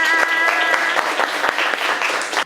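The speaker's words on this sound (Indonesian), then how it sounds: "tepuk tangan untuk kita semua" Primary-school children in a classroom clap their hands together, with a lively burst of many small hands that loosely fall into a rhythm, close and fairly loud, and a bright tone ringing under the start before it cuts off abruptly.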